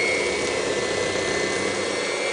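Electric mixer fitted with a wire whisk beating cake batter for a black forest cake, a steady, loud, continuous whirring drone with no pauses and no talking.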